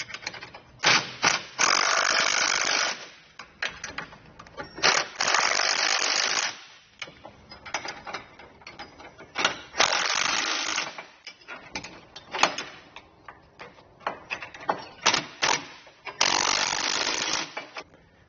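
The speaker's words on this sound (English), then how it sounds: "we can snug down all of our 3/8 bolts, so 9/16 socket and wrench" A hand ratchet with a 9/16 socket and a wrench snug down 3/8 bolts on a Roadmaster direct-connect base plate kit, giving repeated close clicking runs in bursts of a couple of seconds, with quieter metallic taps between them.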